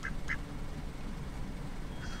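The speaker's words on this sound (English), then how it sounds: "the duck will mess you up. He's a fighter." Two short, close duck quacks sound at the start of the clip from inside a car crowded with pets, with a faint third call near the end over a steady rumble of car interior noise.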